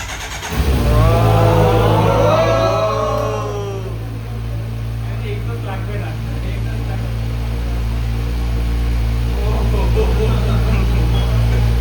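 A Kawasaki Z900 superbike starts and settles into a loud, steady low idle with a brief rev at the start, while voices talk nearby.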